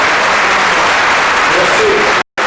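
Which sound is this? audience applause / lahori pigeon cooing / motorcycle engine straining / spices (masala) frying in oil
audience applause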